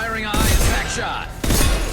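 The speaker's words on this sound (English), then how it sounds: "Firing a high impact shot." Two heavy booming rifle shots from a high-impact round in the video game Mass Effect 2, each a loud broadband blast with a rumbling tail, spaced about a second apart, with a voice briefly heard before them.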